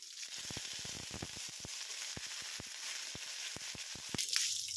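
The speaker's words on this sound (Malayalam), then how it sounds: "കടുകിടാം കടുക് കൂട്ടി കഴിഞ്ഞ് കറിവേപ്പിലേക്ക് ഇടാം" Mustard seeds and curry leaves frying in coconut oil in a pan for a Kerala-style thoran, giving a steady close sizzle with a burst of sharp pops and crackles as the seeds spatter.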